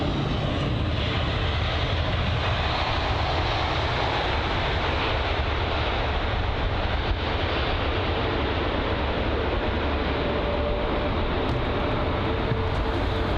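A Eurowings Airbus A319 at London Heathrow, its engines producing a steady, loud broadband roar that holds evenly throughout with no talk.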